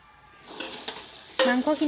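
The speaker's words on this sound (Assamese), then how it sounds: "এতিয়া ইয়াতে মাংসখিনি ঢালি দিছে, দি মেলি অকণমান লৰাই লৰাই ভাজিছে" Meat fries in a pan while being stirred, with a few short scraping strokes and bursts of sizzle close by, getting louder toward the end.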